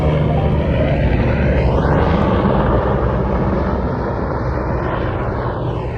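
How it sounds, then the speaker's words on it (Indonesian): Helicopter flying in the mountains near the Matterhorn, a loud steady rotor and engine roar that fills the whole stretch, with a sweeping pitch shift as it passes. "ada helikopter guys."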